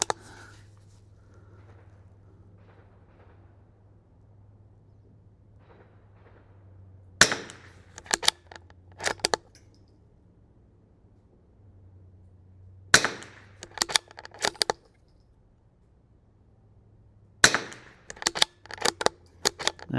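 A Bergara BMR-X .22lr rimfire rifle fires in three separate strings of sharp, close reports, each a quick volley of several cracks, with near silence between the strings.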